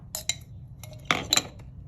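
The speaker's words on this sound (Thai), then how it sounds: "ใส่น้ำตาลแล้วก็คนให้เข้ากันนะคะ" A utensil stirs sugar into tamarind juice in a mortar, giving a few sharp clinks and scrapes in two brief clusters against a quiet background.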